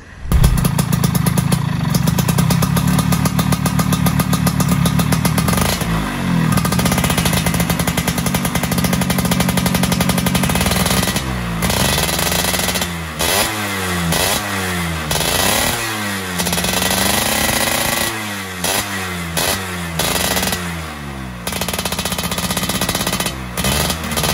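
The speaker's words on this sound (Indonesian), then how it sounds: "coba kita nyalain motor ya" A two-stroke motorcycle with oil mixed into its fuel starts and runs close by. The loud engine crackles and rattles steadily, with repeated revs that rise and fall.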